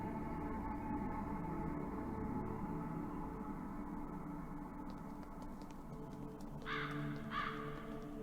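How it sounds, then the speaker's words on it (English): Crows caw in the horror adventure game Saint Kotar, two harsh calls late against a steady low ambient drone, near a treetop dwelling packed with dozens of the birds. "It's inhabited by dozens, if not hundreds of crows?"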